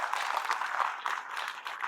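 Audience applause in a lecture hall at a student exam-prep event, steady dense clapping at moderate level throughout with no talking.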